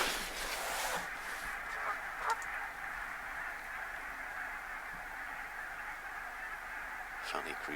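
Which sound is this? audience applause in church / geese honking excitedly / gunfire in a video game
geese honking excitedly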